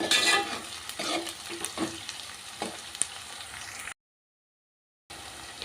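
Green chillies and onion fry in hot oil while being stirred: a soft, steady sizzle with light scraping strokes, briefly cut to silence near the end before the sizzle resumes.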